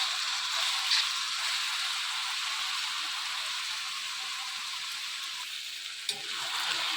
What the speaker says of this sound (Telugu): ఈ విధంగా గోంగూర మొత్తం ఆయిల్లో వేయించుకోవాలి.